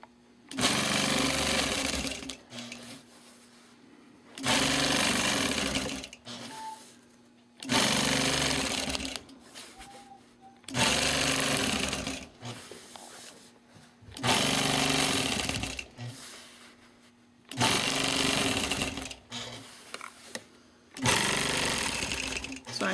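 A sewing machine does straight-line quilting in seven regular bursts of about two seconds, each followed by a short pause. The bursts are loud and close.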